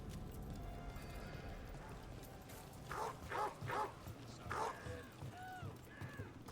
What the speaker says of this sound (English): Was it that dog that was on the ground? It sounds sick.